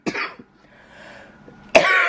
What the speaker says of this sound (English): my cough is bad